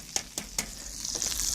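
Peafowl egg frying over easy in a pan, a steady faint hiss and sizzle with a few sharp crackles early on, quieter kitchen-stovetop sound without talk.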